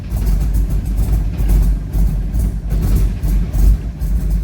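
A turbocharged Toyota 3RZ engine with big cams and massive injectors idles close by, giving a loud, lumpy, uneven low rumble with a rhythmic lope and no talking over it.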